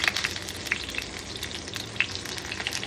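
Paneer paturi frying in a small pan over a gas flame, a steady close sizzle with scattered crisp pops and light crackles throughout.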